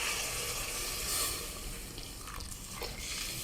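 Water is poured into a cooking pot of biryani, a continuous close splashing and rushing that fades slightly toward the end, with no talk.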